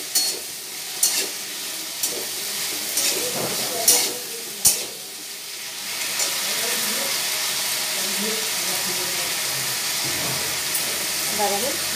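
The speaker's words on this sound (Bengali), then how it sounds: "এটাকে ভালো করে নেড়ে করে দেবো।" Potatoes fry with turmeric in a pan, a steady sizzle running throughout while a utensil scrapes and stirs in sharp, irregular strokes during the first half, with no voices heard.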